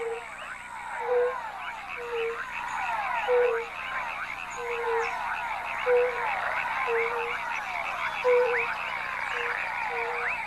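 Frog croaks repeat at a steady rhythm, a regular run of short calls about every second, set against a dense, continuous chorus of insects or other frogs in an outdoor night setting.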